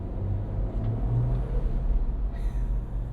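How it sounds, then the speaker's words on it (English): An Ineos Grenadier with a BMW B58 engine drives along with a steady low rumbling drone, a faint whoosh rising briefly near the end, heard from inside the cabin. "you get the cool boost noises if you have the Safari window open"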